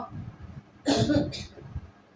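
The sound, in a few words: woman coughing from a cold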